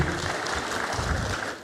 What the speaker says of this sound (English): A better clap for our brother and the team.